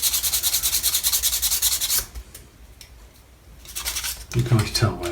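Sandpaper rubbed rapidly back and forth over the small cast gun parts of a 1/250 scale Yamato model ship, steady close strokes, then a pause with faint scratches before the sanding resumes.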